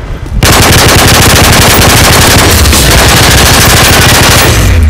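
Rapid, continuous SMG fire from Call of Duty: Modern Warfare 3 multiplayer, loud and close, hammering almost without pause for the full stretch after a brief quiet start.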